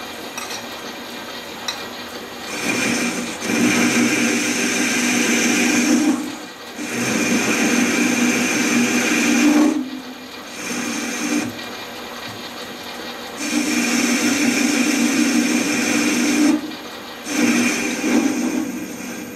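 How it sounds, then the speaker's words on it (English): Metal lathe cutting a large chamfer on a saw arbor in several passes, a steady scraping machining noise in repeated long bursts separated by short pauses, fairly close and with no talk. "we have to do this in a few steps because my lathe would jump off the table if I tried to cut such big chamfer in one cut"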